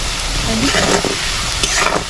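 Chopped carrots frying in oil, a steady close sizzle with stirring scrapes as the pieces are lifted out, for fried rice.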